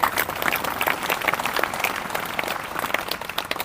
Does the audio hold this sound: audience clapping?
yes